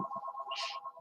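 A telephone ringing with an incoming spam call: a quick electronic ringtone of rapid repeated beeps, close and fairly quiet, with a brief brighter burst in the middle and no talk.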